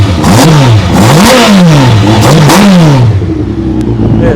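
Two 2006 Kawasaki ZX-12R 1200cc motorcycles with quietened exhaust pipes rev loudly and close by, with repeated quick throttle blips whose pitch rises and falls over about three seconds before settling to a steady idle.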